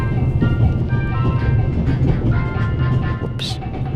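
A moving train rumbles steadily and low in the video game The Raven, the carriage swaying as it rolls along, with someone talking over the continuous drone.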